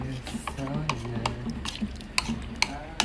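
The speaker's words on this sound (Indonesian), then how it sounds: "kita aduk" Chicken curry being stirred with water in a cooking pot: a spoon scrapes and taps against the pot in irregular strokes, with a few sharper clinks, while a voice talks underneath.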